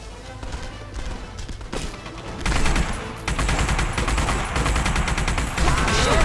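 Sustained gunfire from The Punisher video game, dense rapid shots building after a quieter opening with scattered reports, loud and continuous to the end.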